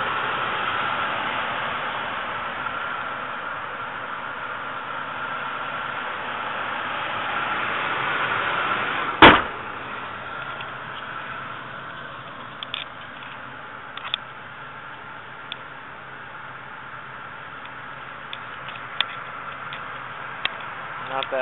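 A Mercury Grand Marquis with about 220,000 miles idles steadily after a cold start at night, a continuous hushed hum broken by one sharp click midway and scattered small ticks afterward.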